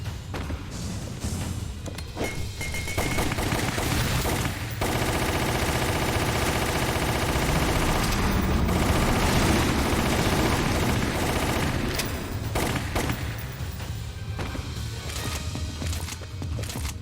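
Gunfire in the Resident Evil: Umbrella Chronicles video game, a dense continuous rattle of rapid shots and thuds with brief lulls, loud and steady throughout, with no talk.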